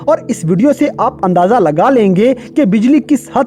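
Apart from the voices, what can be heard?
No everyday noise stands out behind the speech.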